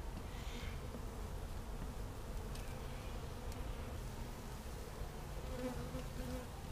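Bees buzz steadily inside an attic, a dense, continuous hum from the whole colony at close range.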